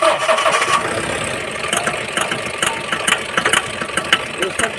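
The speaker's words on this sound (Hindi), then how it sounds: "स्टार्ट हो गया, साउंड कट कट कट कर रहा है।" A Mahindra Bolero BS6 pickup engine cranks and starts, then idles roughly with an uneven, knocking stutter, loud and close, with faint voices around it.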